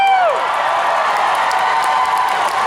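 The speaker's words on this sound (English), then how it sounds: "Thank you for the applause" Fan convention crowd at a celebrity panel applauds and cheers, a dense steady wash of clapping with whoops, loud and close throughout, with a brief sliding tone at the start.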